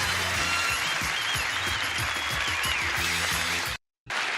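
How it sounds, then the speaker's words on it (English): Studio audience applause on a game show, dense and steady clapping at close range with no voices, cutting out briefly near the end before resuming. "Listen to that applause you get from this beautiful audience"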